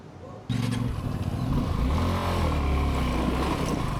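A Honda CB500X motorcycle stuck in sand revs hard after a short quiet start, its engine roaring loudly and steadily with rising and falling pitch and some clatter.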